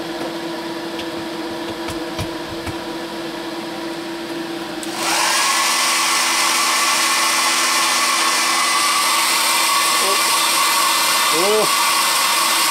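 A hair dryer clicks on after a quieter background hum and then blows with a loud, steady, close-up roar that holds to the end; a voice speaks briefly.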